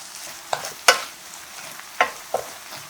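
Mushrooms, onion and green onion being stir-fried with soy sauce and salt in a pan, a faint sizzle under a handful of sharp scraping strokes of a spatula, close and spaced irregularly.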